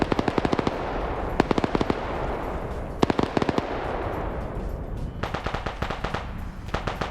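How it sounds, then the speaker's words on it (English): Suppressive automatic gunfire in a PvP video game match comes in rapid bursts of sharp shots separated by short pauses, loud and sustained, with no voices. "Suppressive fire coming out of here"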